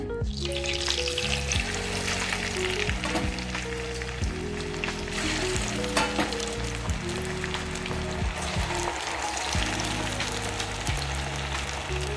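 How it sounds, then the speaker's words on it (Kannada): Marinated chicken pieces frying in hot oil for a lemon chicken fry, a dense, steady close sizzle and crackle that runs throughout, with no talking. "ಈಗ ಫ್ರೈ ಮಾಡ್ಕೊಂಬಿಡೋಣ ಇದನ್ನು."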